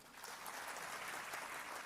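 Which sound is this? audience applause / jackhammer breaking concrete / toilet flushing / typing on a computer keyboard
audience applause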